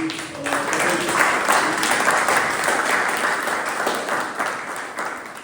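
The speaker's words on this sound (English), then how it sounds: "So a big round of applause" An audience at a Toastmasters club meeting breaks into sustained applause, dense clapping that holds steady for several seconds before tapering slightly.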